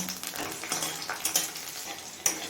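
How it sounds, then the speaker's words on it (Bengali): Green chilies fry in oil over a low flame, a continuous crackling sizzle broken by frequent stirring scrapes and a sharp clink near the end. "এবার এই লঙ্কাটা লো ফ্লেমে কিছুক্ষণ ভেজে নেব"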